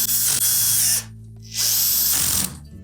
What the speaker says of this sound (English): we'll go ahead and put the remainder of the subtop screws in place.